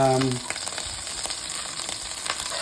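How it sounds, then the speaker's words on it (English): Butter melting in olive oil in a pan gives a steady, close sizzle with faint crackles; a brief tonal hum opens the first half second, then the frying hiss carries on alone. "You have to put 2 tablespoons of butter in some olive oil. Melt that down."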